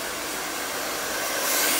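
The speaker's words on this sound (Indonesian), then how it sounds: "jadi tinggal gue tiup aja dengan hair dryer." A hair dryer running on its cool, unheated setting at a barbershop, blowing spilled hair powder off after a comma hair cut; a steady, close, broadband rush of air that swells slightly louder near the end.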